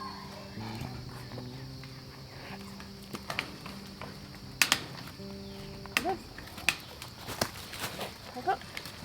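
A goat with its head stuck bleats in a series of wavering calls in the first half, followed by clattering knocks and rustling nearby, while a person speaks softly.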